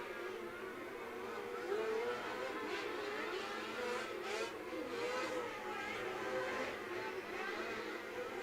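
A race car roars around a dirt speedway at Coles County Speedway on a memorial race night, taking the green flag for a time lap as a steady, distant engine drone holds throughout with slight rises and falls.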